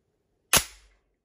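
A single sharp crack from an Artemis Tytan B5 air rifle discharging while its safety is engaged, brief and close, with a short fading tail in an otherwise quiet setting.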